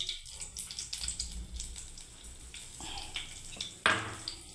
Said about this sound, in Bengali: এবার আমি ভালো করে ভেজে নিচ্ছি বন্ধুরা এটাকে